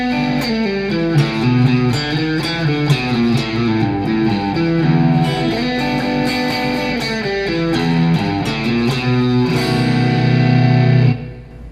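A distorted electric guitar with effects plays a turnaround lick, a steady, dense blues run of bent and picked notes that rings out loud and alone, then stops abruptly.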